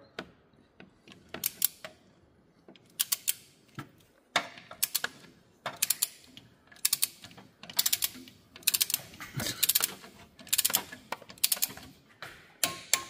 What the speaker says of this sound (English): we're going to go ahead and do that right now. All right, there we are, torquing it.